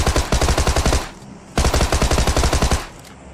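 Two long bursts of rapid automatic gunfire in PUBG, loud and close, each lasting about a second with a short pause between them.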